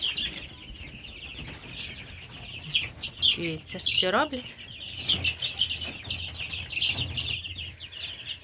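A flock of broiler chicks and turkey poults cheeps constantly in high, dense peeps, while a person speaks briefly in the middle.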